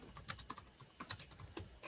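Rapid clicking of keys on a computer keyboard, a quick irregular run of sharp taps in short bursts with brief pauses, fairly close and heard alone.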